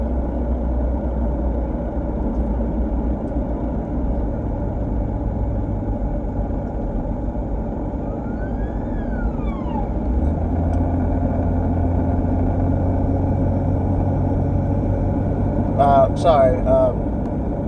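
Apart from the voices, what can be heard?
police vehicle driving past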